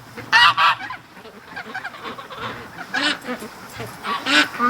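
Ducks give loud, harsh honking calls close by, in several bursts with brief pauses, and faint talk is heard between them.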